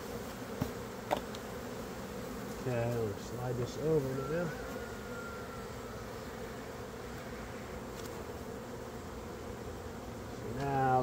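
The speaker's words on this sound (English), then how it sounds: "There's lots of bees on the front, inside, everything." Dense swarming buzz of honey bees around a hive box as they are moved into a new box, a constant close drone with a person talking intermittently over it.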